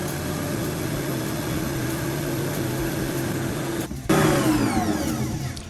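A stand mixer churns whole wheat bread dough with a steady, loud motor drone that continues throughout, briefly dipping before surging back slightly louder.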